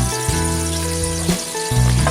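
Blended masala hits hot ghee in a pressure cooker and sizzles steadily for about two seconds, close and fairly loud, with tonal background music playing over the frying.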